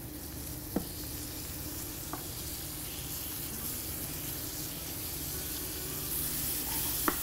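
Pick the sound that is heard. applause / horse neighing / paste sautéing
paste sautéing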